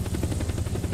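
A UH-60 Blackhawk helicopter in the video game Squad, its rotor beating in a fast even throb with a low steady drone, close and loud for about a second.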